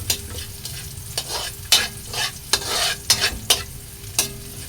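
Garlic sizzles in a pan while a utensil stirs it, giving a crackling fry bed with repeated sharp scraping strokes at an uneven pace, close by and with no talking.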